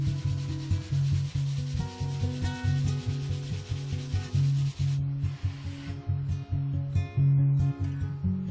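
A Stanley No. 220 plane blade is rubbed back and forth on 400-grit abrasive, giving rhythmic, close sanding strokes, roughly two per second, each a loud scratchy swish, alone without talk.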